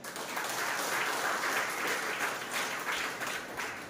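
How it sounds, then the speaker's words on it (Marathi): An audience at a Shivaji lecture organised by a youth group in Kirat, Boisar, breaks into sustained applause, dense even clapping that fills the whole stretch with no speech over it. "त्यांच्यासाठी टाळ्या झाल्या पाहिजेत"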